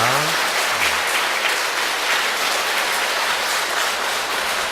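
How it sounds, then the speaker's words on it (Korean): An audience at a talk thanks the speaking teacher with loud, continuous applause, a dense, steady wash of many hands clapping without pause, with a brief voice at the very start. "수고해 주신 선생님께 다시 한번 큰 박수 부탁드립니다"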